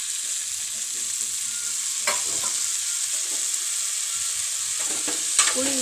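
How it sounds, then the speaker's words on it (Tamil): Sliced bitter gourd sizzling steadily in a pan as it cooks for a tamarind curry, a bright continuous hiss with a few soft scraping clinks near the end, no voices. "இதுக்குள்ளே நம்ம கரைச்சி வச்சுக்கிற புளியை ஊற்றணும்."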